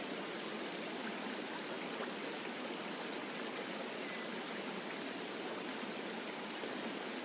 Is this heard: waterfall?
yes